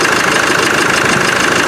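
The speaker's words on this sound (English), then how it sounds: "The engine doesn't sound too bad." A Land Rover 300Tdi diesel engine with excessive oil consumption and leaks runs at a steady idle, close and even, with a continuous rough mechanical rumble and no talking.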